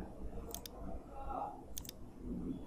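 Four quick key clicks on a computer keyboard, Enter pressed in two close pairs while drafting in AutoCAD, faint and close against a low background hum.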